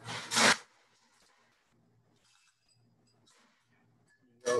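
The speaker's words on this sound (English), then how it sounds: "Go about halfway with ice." A loud clattering burst of ice cubes dropping into a cocktail glass, then quiet handling clinks and small taps, and another rattle of ice at the end.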